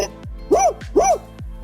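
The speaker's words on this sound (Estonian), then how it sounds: "Koer." A soft plush toy rabbit plays a synthetic dog bark, two short, bright woofs over a thumping electronic beat.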